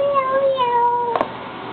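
A voice imitates a cat, a single drawn-out meow sliding in pitch, followed by a brief click.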